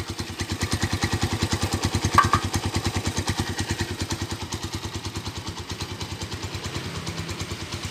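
A 2012 Honda Tiger Revo motorcycle with an aftermarket exhaust idles close by in a fast, even, throbbing beat with a metallic clatter, steady and uninterrupted for the whole stretch.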